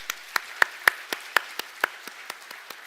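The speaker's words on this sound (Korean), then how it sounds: "우리 격려하는 마음으로 박수를 좀 해주셨으면 좋겠습니다." A small church congregation at a Sunday service applauds a family, producing a sparse, slightly uneven run of about a dozen distinct claps in a quiet room.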